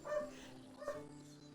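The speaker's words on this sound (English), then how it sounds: "I apologize if y'all can hear barking in the background" A dog in the background gives two short yipping barks about a second apart, faint and somewhat distant, with a low hum behind.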